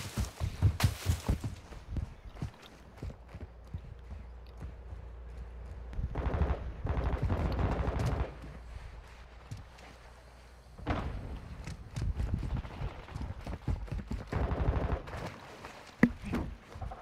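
Gunfire in Call of Duty: Modern Warfare II, with several loud automatic bursts and single shots in separate clusters, broken by quieter stretches of footsteps and movement.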